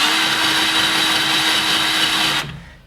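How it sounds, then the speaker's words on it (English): A drill with a larger bit starts a dimple in metal during a Cherokee XJ rock slider installation, whining steadily at close range for over two seconds before it cuts off and spins down. "You can use a larger drill bit and just get it started right there"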